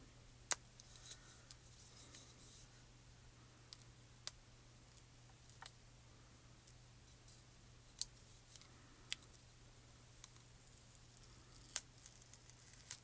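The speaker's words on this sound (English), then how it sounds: "I just carefully try to take an X-Acto knife and try to get under there and just try to carefully peel that up." An X-Acto knife works under and peels up foil for a card-making die project, giving faint, scattered sharp clicks and scrapes spread across a quiet, steady background hum.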